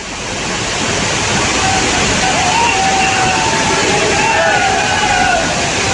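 Bhadaiya Kund waterfall in Shivpuri in flood, a loud, continuous roar of rushing water with faint crowd voices underneath.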